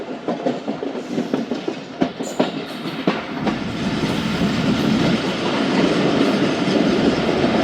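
The Khyber Mail passenger train runs on rails, its wheels beating a loud, near clickety-clack rhythm over the joints before merging into a steady, heavy rolling rumble.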